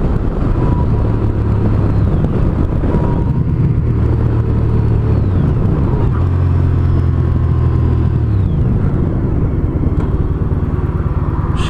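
A Honda CTX1300 motorcycle rides along a road, its engine a loud, continuous low rumble close by, with wind roar and slight shifts in pitch as it changes speed.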